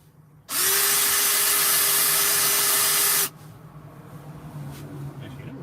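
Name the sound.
power drill drilling screw holes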